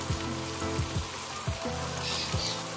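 Pumpkin peel sabzi frying in a pan as spices go in, a steady close sizzle with a few soft scraping stirs, no talk.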